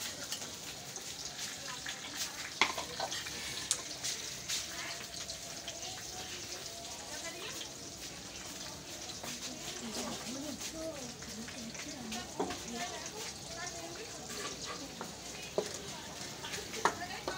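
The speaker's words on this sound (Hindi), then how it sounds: "प्याज को ब्राउन करने हैं" Chopped onions frying in oil in a pan while cooking palak, a soft, steady sizzle and crackle going on throughout, fairly quiet, with occasional small pops and faint kitchen clatter.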